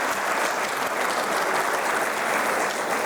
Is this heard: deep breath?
no